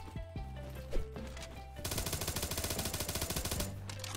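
A FAMAS rifle in Roblox Bad Business fires a rapid, evenly spaced automatic burst of loud, punchy shots lasting almost two seconds, after a few scattered single shots.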